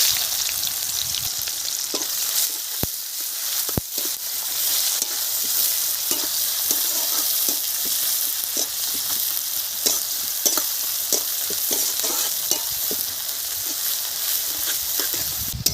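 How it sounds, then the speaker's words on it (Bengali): Nigella seeds and onions fry in hot oil, making a constant close hiss and crackle with frequent stirring clatters of a spatula against the pan, without speech. "তেল গরম হয়ে গেছে, কালো জিরে ফোড়নে দিয়ে দিলাম, তার সাথে পেঁয়াজ দিয়ে দিচ্ছি"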